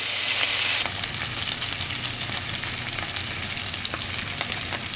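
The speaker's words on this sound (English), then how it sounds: "You can hear it sizzling and see where it has browned" Sausage for a chicken and sausage gumbo sizzles steadily as it fries in a pot, a loud, continuous crackling hiss with small pops throughout and no talking.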